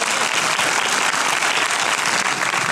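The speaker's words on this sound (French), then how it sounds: "On les applaudit." Loud, dense applause from a crowd at a film premiere, sustained and even throughout.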